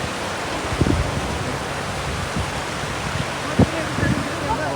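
Steady broadband rush of the Indus (Sindhu) river flowing fast through the mountains on the way to Sonamarg in Kashmir, a continuous close roar with a few faint bumps and brief sounds over it.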